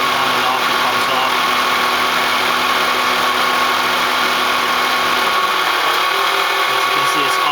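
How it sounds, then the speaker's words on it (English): A 2000 Mazda MPV LX idles steadily while its air-conditioning compressor clicks off partway through, dropping the low engine hum to a lighter, thinner drone under a constant high whine. "my compressor is coming on and off"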